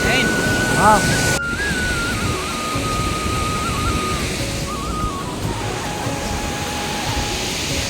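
Water pours steadily over a tank's overflow weir in a constant broadband rush, with wind buffeting the microphone and a brief sharp knock early on, no clear speech over it.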